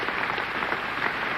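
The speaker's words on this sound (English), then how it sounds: "the whole of the Union standing and applauding this magnificent speech of James" Oxford Union audience on its feet applauding James Baldwin's speech at the 1965 debate with William F. Buckley, a dense, steady roar of clapping from a large hall, sustained and even throughout.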